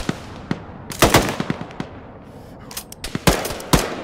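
A side-mounted gun fires in ArmA 3, loud sharp shots in quick irregular bursts, with some rapid clusters and echoing tails between them and no talk.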